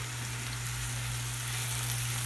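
Garlic and mushrooms fry in a pan as a dense, even sizzle with a faint low hum under it, steady and close with no stirring strokes.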